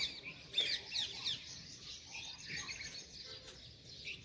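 Sparrows on a rooftop chirp in short, quick bursts while being fed grain, their faint twittering calls close by against a quiet morning background.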